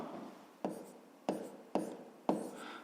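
Writing out a solution to a fifth-grade percent problem by hand, a pen tapping and scratching on paper in four short bursts at a steady, uneven pace, close and quiet, with no talk.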